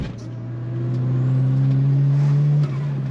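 A modified Nissan Superturbo pulls away, its small engine droning low and rising steadily in pitch as it accelerates, loud and close, then easing off briefly near the end.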